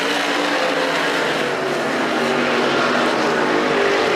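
Street stock race cars at Perris Auto Speedway roaring together at full throttle off a green-flag start, a loud, dense, continuous engine drone close by.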